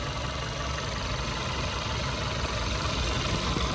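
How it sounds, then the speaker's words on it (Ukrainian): A Volkswagen Golf 6 Plus engine idles steadily with an even, continuous rumble and hiss, close by and unchanging, with no talking. "Чуєте роботу двигуна."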